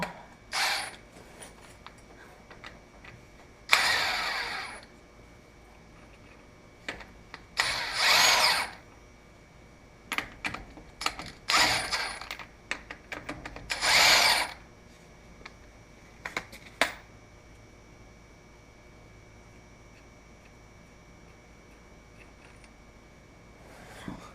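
An impact wrench fitted with a 3/4 non-impact socket works on Dana 44 axle hardware, giving several short loud buzzing bursts with quiet gaps between them.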